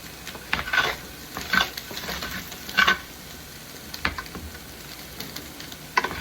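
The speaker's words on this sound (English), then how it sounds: "just kind of stir it up a bit" A spoon stirs dill and smoked paprika into food frying in a pan, giving a few soft scraping strokes over a quiet sizzle, close and gentle, with no talking.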